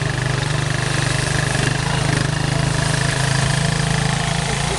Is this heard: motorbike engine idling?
yes